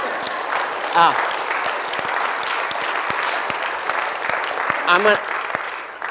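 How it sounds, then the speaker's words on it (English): An audience applauds steadily at a talk about hiking the full 2,194-mile Appalachian Trail, with the dense clapping running the whole time and a couple of voices calling out briefly over it. "Go ahead and clap if you want."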